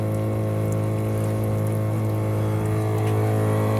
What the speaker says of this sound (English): Pumping the dinghy out with the shower.